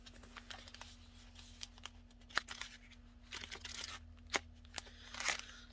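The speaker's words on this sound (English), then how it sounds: "Just kind of shuffle them up." Paper cards for a money-saving budget challenge are shuffled by hand in a quiet room, giving soft, irregular flicks, slaps and crinkles close to the microphone.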